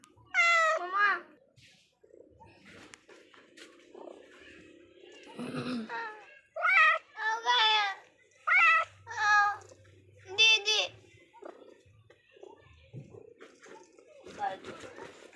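A cat meows several times in loud, drawn-out cries close by, mixed with people and someone talking and some laughter around it.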